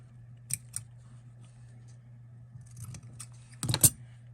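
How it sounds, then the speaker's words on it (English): Scissors snip close up in a few short bursts, two early and a louder cluster near the end, during a Dollar Tree DIY Christmas gift craft, with quiet pauses between the cuts. "And then I'm going to cut that as well."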